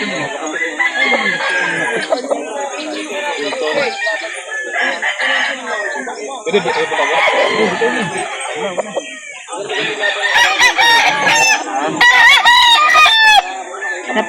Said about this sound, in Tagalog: Maraming manok ngayon.